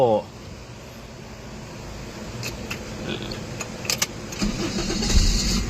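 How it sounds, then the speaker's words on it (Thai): A 1995 Toyota AE101 sedan starts with a brief crank at the very beginning, then settles into a quiet, steady idle heard from inside the car, with faint clicks and cabin noises. "เครื่องติดง่ายนะครับ"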